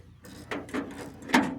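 A wrench ratchets while tightening a bolt during removal of stuck brake guide pins, heard as a few close, short mechanical clicks and a louder final click over a faint background hum.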